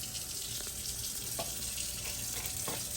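Water runs steadily from a kitchen tap into a sink during a tile grouting job, a continuous hiss with faint clinks on top and nobody speaking.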